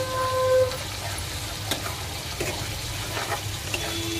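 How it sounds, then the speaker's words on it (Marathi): Masala spices frying in a pan for palak paneer over raised heat, a continuous close sizzle with occasional stirring scrapes, no talking. "बघा मसाला एकदम मस्त फ्राई झालेला आहे।"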